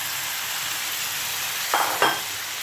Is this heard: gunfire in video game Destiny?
no